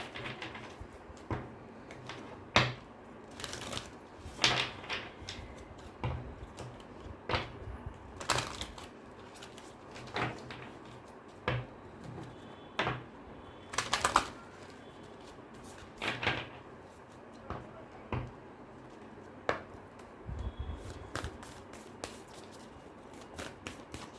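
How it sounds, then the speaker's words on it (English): Moonology oracle cards are shuffled and drawn, giving sparse, irregular soft slaps and clicks of card stock spread over a quiet room tone, close by, with no voice heard. "let me pull one more card for you from the moonology oracle"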